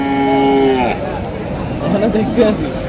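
A meat bullock lets out a long, loud moo close by at the Mirshanni cattle market in Comilla, while a crowd chatters in the background.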